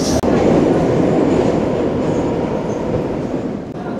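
A Moscow Metro train rumbles steadily along, a loud continuous roar with faint rattling, and no one speaks over it.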